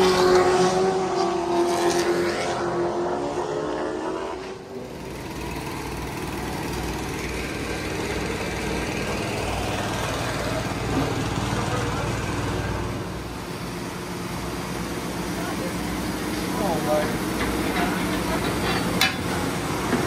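Street stock race cars running morning practice at an asphalt track, their engines droning and roaring steadily at a distance, with nearby talk mixed in.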